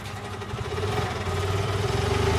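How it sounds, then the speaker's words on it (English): Low, steady rumble of a petrol car engine idling nearby, a constant hum with slight vibration and no talking. "Petrol engine, I thought it was going to be electric."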